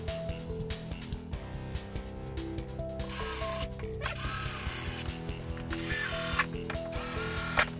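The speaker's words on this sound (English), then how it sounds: "then put the 4 screws in each corner" Screws being driven into the corners of an X-Carve waste board with a power driver give a steady mechanical whirring and ratcheting, with pitch shifts as each screw seats and brief rising bursts, close and continuous.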